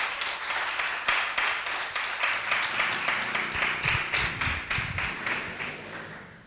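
A church congregation applauding in rhythmic unison, dense clapping beating steadily close by with a few low thumps and murmurs underneath, fading slightly toward the end.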